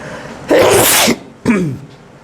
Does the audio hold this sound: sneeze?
yes